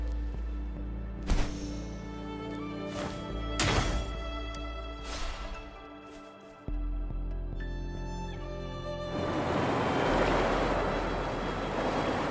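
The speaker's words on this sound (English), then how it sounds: "Look, the water is going down." Water drains away in the video game Wuthering Waves. Rushing, surf-like water swells toward the end over a sustained musical drone with scattered thuds, and no one speaks.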